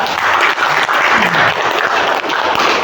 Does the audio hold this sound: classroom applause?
yes